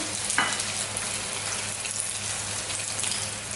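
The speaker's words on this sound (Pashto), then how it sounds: "همدغه شان موږ بل کباب دې کې واچو فرای کولو ته به یې کېدو" Shami kebab patties coated in egg batter fry in hot oil in a pan, giving a dense, continuous close sizzle and crackle, with a brief clink near the start.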